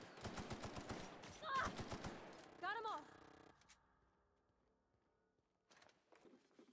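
Rapid bursts of automatic gunfire from The Outer Worlds video game crackle in quick succession, then stop, leaving near silence broken by a brief later clatter; voices speak over parts of it.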